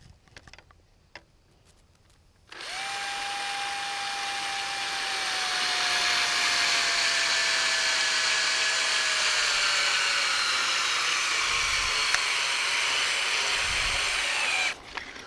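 A power drill whines steadily for about twelve seconds, pitch sliding slowly downward as it drives a long screw into pallet wood, close and loud, with no talk.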